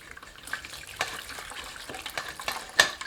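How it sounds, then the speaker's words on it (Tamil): Plain water is poured to rinse fresh homemade paneer in a strainer, giving soft, faint splashing and trickling with a few sharper drips, close by and without speech. "கொஞ்சமாக நார்மல் தண்ணி விட்டு நல்லா அலசி விட்டுக்கணும்."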